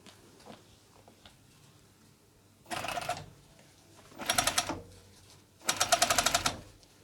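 Overlocker serger stitching ribbing cuffs onto a hoodie in three short, rapid mechanical runs that grow louder, separated by quiet pauses with faint handling noise.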